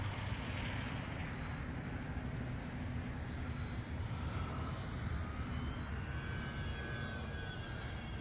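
A model Arrows F4U-4 Corsair RC warbird flies overhead on a cool morning, its steady engine drone holding for several seconds at moderate distance with no talk.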